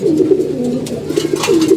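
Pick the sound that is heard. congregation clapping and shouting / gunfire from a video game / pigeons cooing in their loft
pigeons cooing in their loft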